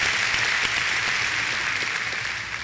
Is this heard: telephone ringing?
no